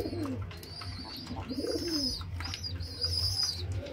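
Pigeon chicks in a loft give soft, low coos along with brief wing flaps and faint chirps, all close by with no talking.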